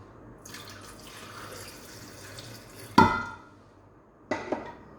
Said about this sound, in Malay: sekarang kita tuangkan air